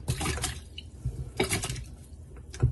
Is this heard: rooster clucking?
no